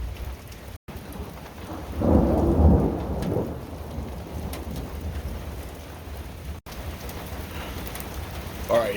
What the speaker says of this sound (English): We just had some lightning and a really loud thunder